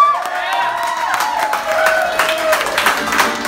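A concert crowd applauds and cheers for a musician after an orchestral conch shell feature with an orchestra, steady clapping with shouts and some voices mixed in, fairly close and sustained throughout.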